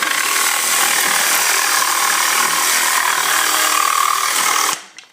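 Metabo 18V cordless jigsaw with an aggressive blade tearing through wood with its dust blower on, a loud, close, continuous buzzing cut that runs steadily and then stops abruptly near the end.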